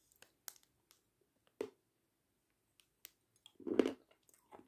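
White chocolate is bitten and chewed close to the microphone, with a few soft, sparse crunches and clicks separated by quiet gaps and a slightly longer chewing burst near the end.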